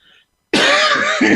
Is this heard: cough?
yes